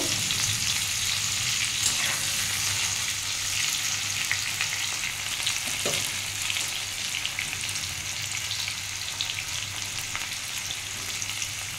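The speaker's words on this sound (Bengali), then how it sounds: "উচ্ছেগুলো এই তেলে ভেজে নেব।" Bitter gourd pieces frying in hot oil, a steady dense sizzle that holds evenly at close range, with an occasional faint stir of the pan and no talking.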